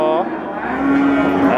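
A Limousin feeder bull moos once, long and loud, close by at the crowded Wirosari cattle market in Central Java, with a faint hum of market background beneath.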